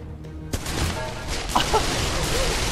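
Gunfire in a VR gun game, a sudden shot followed by scattered bursts of fire, with a voice speaking briefly over it.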